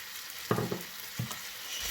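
Chicken pieces and oyster mushrooms fry in a pan, a soft sizzle broken by two brief clattering stirs or drops into the hot pan.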